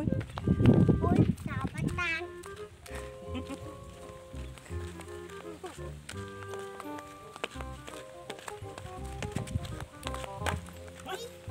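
A horse is led walking home after a bath, its hooves clip-clopping in a steady, moderately close rhythm, while people talk over it throughout.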